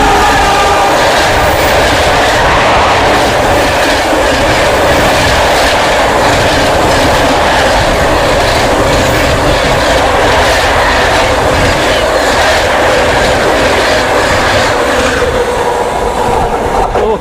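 An Indian express train on the Ranchi to Delhi run in Jharkhand races along the rails at full speed, a loud steady roar with rhythmic clickety-clack of wheels over joints, heard close from inside the coach.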